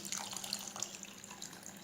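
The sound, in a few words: pouring water into a cup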